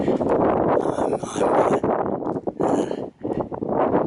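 Strong gusting wind on a mountain ridge batters the microphone in loud, rumbling roars that rise and fall, with brief lulls between heavy gusts and no talk.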